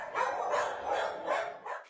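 Dogs at a no-kill animal shelter in Przemysl, Poland, housing animals from war-torn Ukraine, barking and yipping continuously in a reverberant room, several overlapping barks at moderate loudness with no talking.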